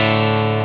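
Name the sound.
electric guitar through Klon drive into Deluxe Reverb amp capture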